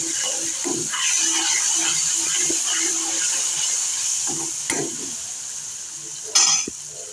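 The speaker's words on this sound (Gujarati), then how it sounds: "તમે જોઈ શકો છો હવે ઉકળવા લાગ્યું છે." A Gujarati patra spice mixture of fennel, sesame, tamarind powder, curry leaves and turmeric boils in a pan, giving a steady soft bubbling hiss with a few brief clinks and stirs.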